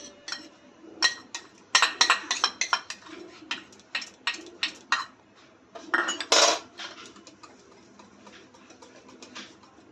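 Uttapam batter mixed with cumin seeds, chopped chilli and grated ginger is beaten in a bowl, giving a run of irregular clinking, tapping strokes in close bursts, loud then quieter, with no talking.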